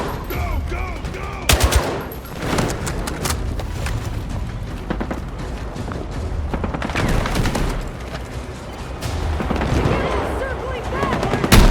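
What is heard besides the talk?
gunfire in video game Battlefield 6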